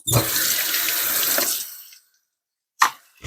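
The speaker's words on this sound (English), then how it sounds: "I like to wash my fruits and veggies in like these strainers because that way they can drain" A kitchen faucet runs loudly into a sink while vegetables are rinsed in strainers, then stops abruptly, followed by a short splash and a clatter.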